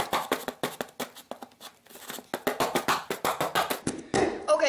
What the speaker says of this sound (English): let's open my box